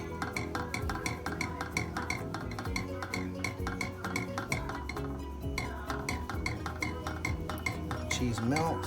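Shredded cheese being folded into a roux in a pan, with a utensil scraping and clinking against the pan in quick irregular strokes, close and continuous with no talk.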